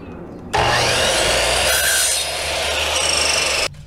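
A hand or power saw cuts a 45-degree miter across wood molding, a loud, steady rasping cut lasting about three seconds, close up and with no talk.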